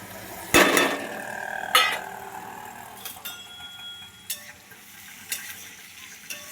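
Garlic, onion and tomatoes drop into hot oil in a pan for vagharela pav, giving a loud burst of sizzle and clatter, then quieter stirring with a few sharp utensil knocks against the pot.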